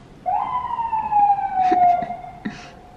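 A single siren wails with a long, slowly falling tone, fairly close, with brief clicks and bumps around it.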